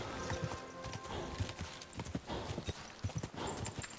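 A low-stamina horse in Kingdom Come Deliverance 2 gallops with fast, uneven clip-clop hoofbeats close by, steady and continuous with no talking.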